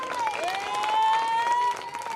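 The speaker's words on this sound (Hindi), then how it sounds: "एक बार जोरदार ताली बजा दो" Audience applause at a Hindi comedy poetry show (hasya kavi sammelan), steady clapping that swells slightly in the middle over about two seconds, with a tonal voice or music line running beneath.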